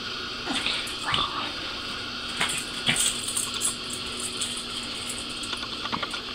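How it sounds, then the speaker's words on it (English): A small dog, a nine-year-old purebred Pomeranian, whimpers and yips in short high-pitched bursts, close by, with a few light clicks and taps between the sounds. "My dog buddy."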